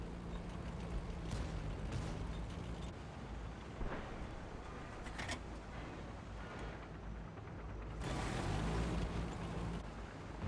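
A tank barrel blowing apart in World of Tanks on console, with a deep rumbling blast and crackling fire bursting out around the second, fourth and eighth seconds over steady engine and battle rumble.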